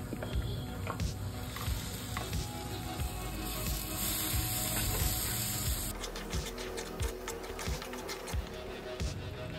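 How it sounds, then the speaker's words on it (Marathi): A ground onion-garlic masala paste with chili powder and garam masala fries in oil for a drumstick curry, sizzling softly and steadily. Occasional scrapes and stirring clicks from a spoon sound close by, with no talk. "आणि आता आपल्याला याला तेल सुटतपर्यंत छान असं परतून घ्यायचं आहे।"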